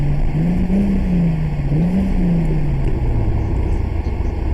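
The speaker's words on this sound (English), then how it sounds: "Okay, here's some revs for y'all." A turbocharged Toyota Supra MK4 engine revs loudly and steadily, pitch rising and falling in a couple of slow swells over a constant heavy rumble.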